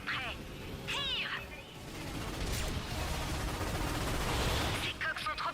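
A watchtower ion cannon fires in the Ratchet & Clank PS4 game, a loud blast rising into continuous rumbling battle noise, with short whooshing chirps at the start and end.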